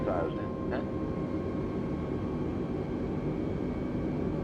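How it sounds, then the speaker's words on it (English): Steady jet engine drone of an Airbus airliner on approach to land in Microsoft Flight Simulator 2020, a continuous even roar with a faint tonal hum throughout, with no talk over it. "airplane sounds going on"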